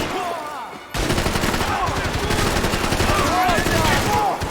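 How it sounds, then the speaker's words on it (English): Rapid bursts of gunfire from the video game Max Payne, loud and sustained after a brief lull, with a voice shouting over the shooting. "Shoot this motherfucker in his face! Yeah, keep shooting him!"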